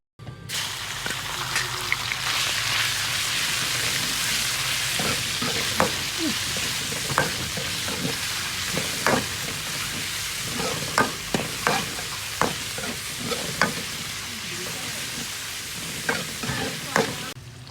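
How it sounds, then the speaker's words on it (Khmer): Pork stir-fried in a hot pan for shrimp paste fried rice sizzles steadily, with repeated sharp scrapes and clacks of the spatula as the meat is tossed. "លើសាច់ជ្រូកយើងឆា វាក្រៀមហើយឆ្អិនហើយ"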